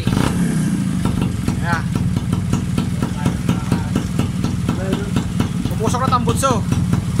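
A Kawasaki XD3 motorcycle engine idles with a steady, close, pulsing putter and brief revs, while people talk over it.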